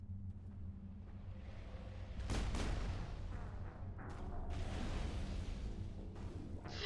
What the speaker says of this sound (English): that's what happens when you shoot the anti-vehicle mine